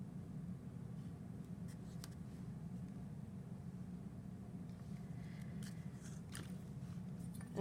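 A tool scores the clay seam of a conical mug, making faint, sparse scratching strokes over a steady low room hum, quiet and close.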